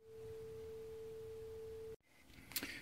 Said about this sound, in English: our DAC is now reading a proper sine wave